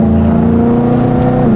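Loud, close drone of a supercharged BMW M3 while cruising, steady exhaust rumble layered with a constant high supercharger whine and no change in pace.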